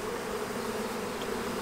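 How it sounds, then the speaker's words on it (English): Honey bees in a hive colony give off a dense, continuous buzzing drone, close and steady throughout. "A lot of bees in this colony"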